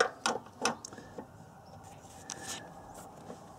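Ratchet on a long and medium extension with a deep well socket turning a spark plug on a 4-cylinder Ford Ranger: a few quick, quiet clicks near the start, then faint, sparse clicking over low background hiss.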